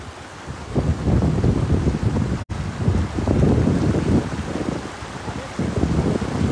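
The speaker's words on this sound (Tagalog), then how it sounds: "Mahangin" Strong wind blows across the microphone on a fishing boat at sea during net fishing, a continuous rough roar that surges and eases, with one brief dropout partway through.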